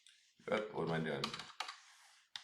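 Typing on a computer keyboard to enter a label in mapping software, a short burst of key taps and a click at the end, with someone talking over it.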